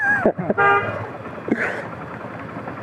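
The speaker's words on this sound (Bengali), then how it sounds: "ভাই হর্ন দিয়ে তো লাভ নাই" On a road in Bhurungamari, Kurigram, Bangladesh, during a motorcycle tour, a vehicle horn toots loudly and close in two short bursts, with steady engine and traffic noise running beneath.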